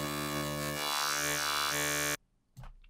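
Bright, screechy Serum synth lead sweeping through a Psychedelic wavetable, a loud buzzy sustained tone for about two seconds that cuts off abruptly, followed by a brief faint sound.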